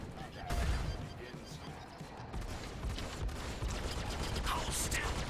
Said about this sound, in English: I think one of these players are shooting at me